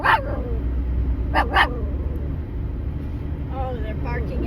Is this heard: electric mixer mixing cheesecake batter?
no